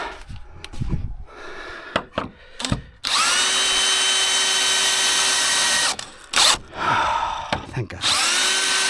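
A power drill drives bolts into treehouse wood, with short revving bursts followed by long sustained whirring runs, loud and close, separated by brief pauses and clunks.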